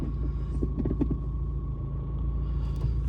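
Gearbox of a 1.9 TDI car grinding as second gear is forced, a low steady engine rumble with a brief rough grating burst of clicks and scrapes near the start.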